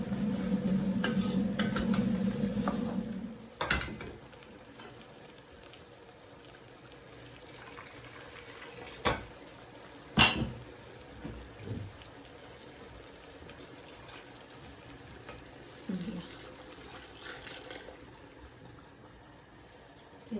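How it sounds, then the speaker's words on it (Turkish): Water pours steadily into a pot of harira soup for a few seconds, followed by quieter stirring and scattered clinks of a utensil against metal. "Şimdi tekrar içine su gezdireceğim. Bir daha su ekleyeceğim."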